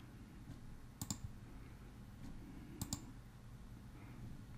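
A computer mouse gives two pairs of crisp double clicks, close and faint over a low room hum.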